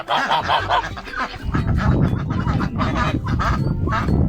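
A flock of domestic geese of the mast breed, each around 6-7 kilos, calls close by in overlapping harsh honks that keep up without a break and never leave the air quiet.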